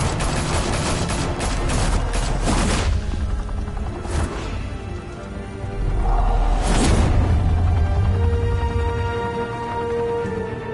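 Gunfire in a Batman: The Telltale Series shootout: dense, loud bursts of shots in the opening seconds, then further sharp blasts and rumbling booms over a sustained roar of action, with no talk.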